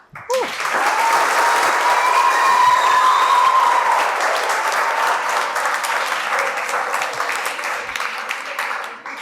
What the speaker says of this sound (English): let's give her a good round of applause again